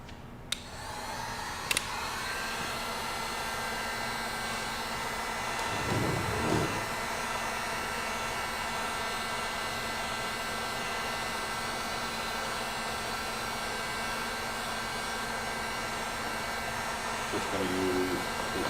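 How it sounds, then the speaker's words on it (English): A heat gun blows a steady, loud whooshing stream of hot air over a sculpted figure, running continuously for the whole stretch with only slight swells and a couple of brief clicks. "I think I need to dry it. Can I borrow that heat gun?"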